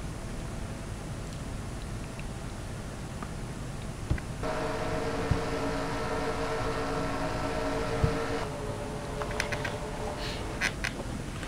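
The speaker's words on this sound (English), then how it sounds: "Engines have fired, cars rolling off pit road" A pack of race cars in a NASCAR racing video game at Daytona, engines droning steadily as they roll off pit road, a constant mid-level hum with a louder stretch in the middle and a few faint clicks.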